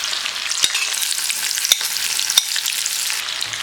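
About 75 grams of sliced shallots frying in a little oil for Sri Lankan idi sambal give off a loud, steady sizzle with a few sharp crackles and no voices.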